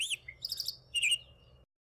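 A Jerdon's Leafbird, a skilled mimic that feeds on flower nectar, gives a few short, high chirps and whistled notes in quick bursts, fairly close and clear, then falls silent.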